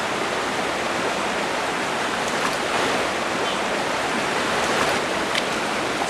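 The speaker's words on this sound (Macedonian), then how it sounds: "Ова е планинска река што се спушта од највисоките врвови на Германија." A cold mountain river near Garmisch-Partenkirchen, running down from Germany's highest peaks, rushes in a steady broadband roar of turbulent water, close and continuous with no talking.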